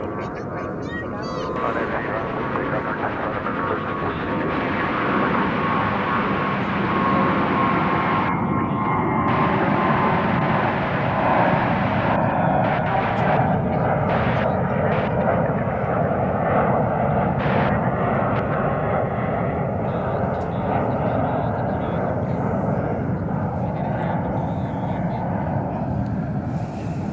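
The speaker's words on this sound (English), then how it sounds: "It's an Airbus A321. American 1316, RNF 29, runway 36 right, take off." An American Airlines Airbus A321 takes off from runway 36 right at Dallas/Fort Worth airport, a loud, steady jet engine roar that holds for the whole stretch with a voice talking over it.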